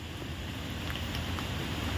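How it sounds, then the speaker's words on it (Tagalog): Strong wind blows around an old well, a steady, faint broadband rush with no clear gusts and no voices. "Napakalakas ng hangin mga idol."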